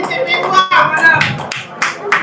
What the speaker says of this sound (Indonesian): Tepuk tangan Bu Nora, Pak Azam.